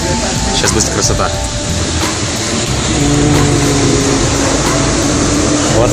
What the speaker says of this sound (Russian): Вот так вот метро проезжает